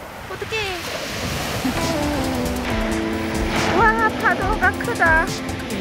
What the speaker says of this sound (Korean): 파도가 크다.